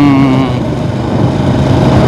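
An engine drones close by on a quiet shortcut road mostly used by motorcycles, with a brief higher whine at the start, and the sound then settles into a steady rumble.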